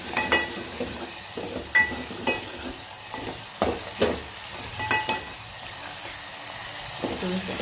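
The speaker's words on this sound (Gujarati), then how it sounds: "ધાણા પણ સાથે એડ કરી દઈએ, સરસ મિક્સ કરી દઈએ." A spoon stirs gravy with coriander in a pan, giving soft scraping and clinking strokes at an irregular rhythm over a faint background sizzle, close and quiet.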